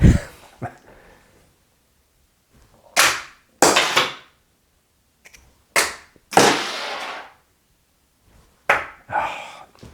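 A toy dart gun fires darts at a Harrows dartboard: several loud, sharp bursts, spaced irregularly with near-silence between them, some landing in quick pairs.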